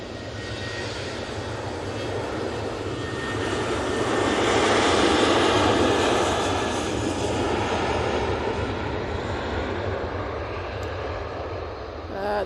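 Inbound KLM airliner at Manchester Airport, its engines roaring loud and steady, swelling toward the middle and then holding as the aircraft passes close by.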